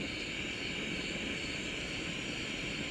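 A Jetboil Zip camping stove burner roars steadily at full flame, a constant loud broadband rushing hiss that holds unchanged throughout with no speech over it.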